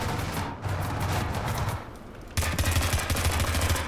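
Machine gun fire in War Thunder, infantry mode with an M4A1, rapid bursts of automatic shots close and loud, pausing briefly before another dense burst, no talk.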